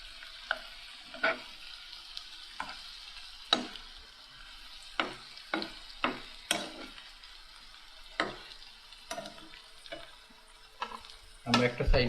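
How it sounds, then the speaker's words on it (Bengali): Garlic frying in a pan, with soft sizzling throughout and repeated sharp stirring clicks and scrapes, ending in louder clatter from the pan. "আমরা একটা সাইড দিকে আমাদের রসুনগুলাও ভেজে নিচ্ছি"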